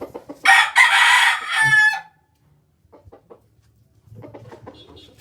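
A pair of gamecock roosters on a fighting-cock farm: one gives a loud, close, full crow lasting about two seconds, followed by quieter scattered clucks and low bird noises.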